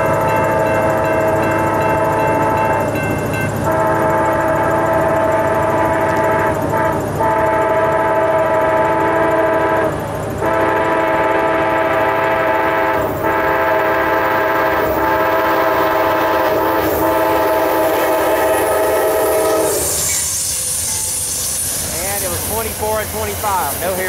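Amtrak Crescent number 20 passenger train, led by a Phase 3 painted locomotive, rolls past at Mableton, Georgia, sounding a long, loud chorded horn with repeated blasts over steady rail and wheel rumble.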